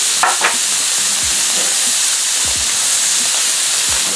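Brussels sprouts frying on a Camp Chef FTG600 flat top griddle, a loud, steady hissing sizzle with a few spatula scrapes and taps, close and without voices.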